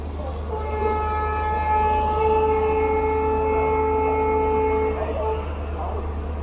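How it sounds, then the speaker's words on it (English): The Mangala Lakshadweep Express pulls into a station with a steady low rumble and hum, while a long, sustained horn tone holds for several seconds above it before fading. "my train, the Mangala Express, is also coming in"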